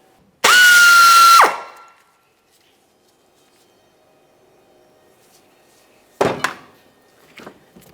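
A power tool whirs loudly for about a second while removing a 13mm nut on a Chevy Tahoe rear wiper, cutting off abruptly, followed after a long pause by a few sharp clanks of metal parts.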